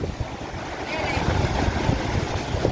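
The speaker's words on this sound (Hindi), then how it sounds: "और ये ख़तरनाक लहरें आप लोग देख सकते हो" Sea waves washing in at Sandspit beach in Karachi where men are net fishing, a steady broadband surge and wash with wind buffeting the microphone throughout.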